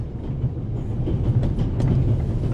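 Steady train ride ambience in The Raven: Legacy of a Master Thief Remastered, a continuous low rumble of a rail carriage with faint rhythmic clickety-clack running evenly throughout.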